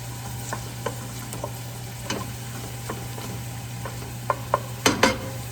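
Ingredients for pasta e fagioli cook down in a pot with olive oil, giving a low, steady simmer. Faint scrapes and clinks of a utensil stirring against the pot come through now and then, with a few sharper knocks near the end.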